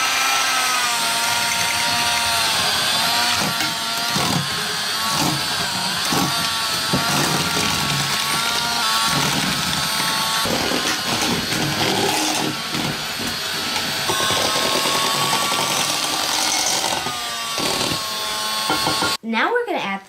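An electric mixer beats sugar and butter on medium speed for a zesty lemon cake, a loud continuous whirring drone that fills the whole stretch while people talk over it, ending abruptly.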